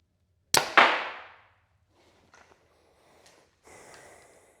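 A Bowtech Carbon One compound bow is shot up close: a sharp, loud double snap with a short ringing decay, then faint small clicks and a low rustle.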